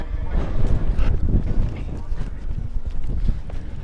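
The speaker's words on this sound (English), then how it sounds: "it's definitely windy up here" Strong gusts buffet the microphones outdoors on a steep supercross track wall at Daytona, producing loud, uneven low rumbling bursts that rise and fall throughout.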